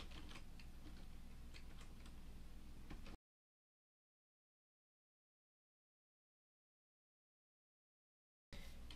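Rapid, close clicking of keys as values are typed on a computer keyboard, in a steady burst that cuts off into silence and briefly resumes at the end.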